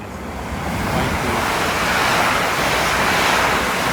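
Steady, dense rain hiss outdoors, a constant broadband wash with no pauses and no voices.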